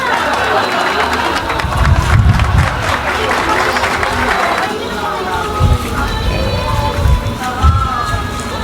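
Steady heavy rain hisses throughout during flooding, with a broad wash of noise. Low rumbles and muffled voices sit underneath.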